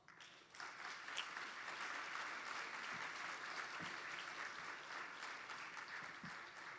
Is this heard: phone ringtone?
no